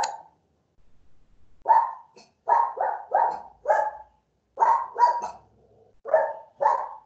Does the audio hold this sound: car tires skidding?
no